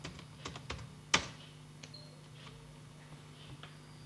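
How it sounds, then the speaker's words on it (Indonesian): Light clicking keystrokes on a computer keyboard entering a web address, a short irregular burst of taps with one sharper, louder key strike, close and quiet. "Ketik ipsaya.com."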